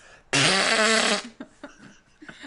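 A loud, drawn-out fart sound lasting about a second, buzzy and sustained, followed by faint scattered movement and quiet background noise.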